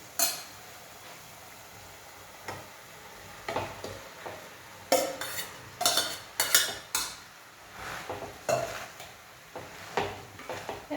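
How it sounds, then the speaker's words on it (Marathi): Cooked rice being stirred into tomato puree in a pan with a spoon, giving a series of soft scraping and clinking strokes at irregular intervals, close and fairly quiet. "आता हा जो भात आहे जो मी ऑलरेडी शिजवून घेतलेला आहे तो मी यामध्ये मिक्स करणार आहे"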